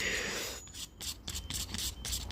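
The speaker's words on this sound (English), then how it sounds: "just pretty much scrape your runs off, and see, it all builds up" A tool scrapes paint runs off an airbrushed helmet in short, close, rasping strokes, several in quick succession, with no talking.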